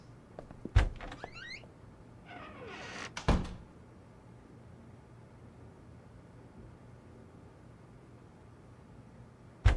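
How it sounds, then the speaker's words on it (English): A door thuds shut in the mystery game Unheard: Voices of Crime, with two sharp knocks early on and another at the end over a quiet, hissy room tone. "And close the door."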